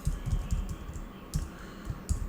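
Rapid clicking of typing on a computer keyboard while entering code, bursts of keystrokes at close range in a quiet room.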